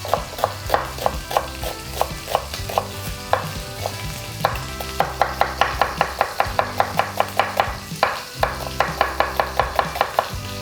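Onion being chopped with a knife on a board, many rapid close-up knife taps in runs, fast and regular toward the end, over a faint sizzle of meat grilling in the background.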